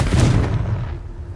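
A Confringo explosive spell in Hogwarts Legacy goes off as a single deep booming blast that decays quickly into a low rumble.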